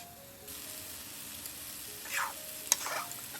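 Lightly fried broccoli tossed with ground black pepper in a pan, a faint low sizzle with a few brief spatula scrapes and clicks near the end.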